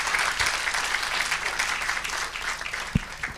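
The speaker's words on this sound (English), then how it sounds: "Please, can you clap for him?" A lecture audience claps together at a professor's 80th birthday public lecture, a dense, sustained applause from a moderately near crowd that eases slightly toward the end, broken by a couple of sharp knocks.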